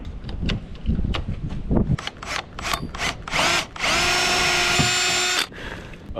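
A battery power drill with Forstner bits bores into wood while building a chicken shelter outdoors, several short whirring bursts giving way to one long steady run, loud and close with some wind noise.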